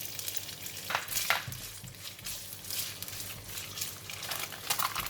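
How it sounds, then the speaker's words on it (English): Tofu frying in about two tablespoons of cooking oil in a pan, a close, steady sizzle with a few louder spattering bursts and stirring scrapes, no talk. "2 tablespoons of cooking oil, and I'm going to fry the tofu first"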